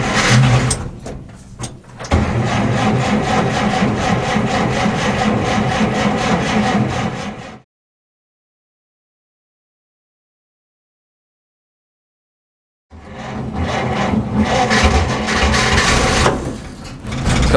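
A car engine idling on choke just after starting at a breakfast car meet, a rough, steady running drone heard close up, cut off by a stretch of total silence before the engine sound returns.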